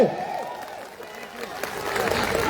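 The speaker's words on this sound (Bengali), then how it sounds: "তাহলে তালিটা একসাথে হবে জোরে করে তালি হবে" An audience at a Victory Day theatre performance by a cultural troupe claps together, a mid-level wash of applause that builds toward the end, with voices mixed in over it.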